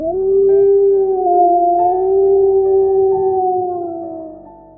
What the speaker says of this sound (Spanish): cuando escuchó un aullido